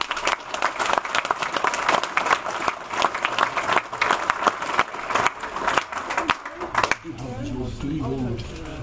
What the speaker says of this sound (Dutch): Ik wil graag een applaus.